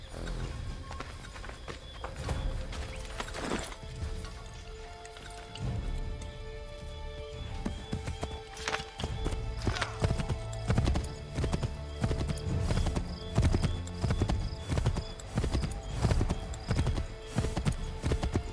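A horse gallops in Assassin's Creed III, its hooves drumming in a fast, continuous clip-clop with scattered crashes and game noise around it, growing fuller and louder in the second half.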